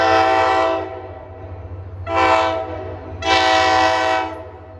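A blue NJ Transit Heritage locomotive sounds its loud multi-chime super horn in three blasts, a long one, a shorter one, then another long one, over the low rumble of the engine.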